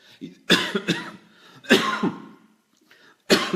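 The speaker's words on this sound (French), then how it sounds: "J'ai voulu parler et tousser, ça va pas." A series of harsh coughs, close up, in three bursts with short gaps, some with a throaty rasp between them.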